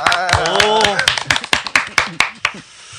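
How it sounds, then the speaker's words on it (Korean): A studio audience gives a short burst of scattered hand claps, about a dozen sharp slaps following a voice speaking at the start. "박수. 박수."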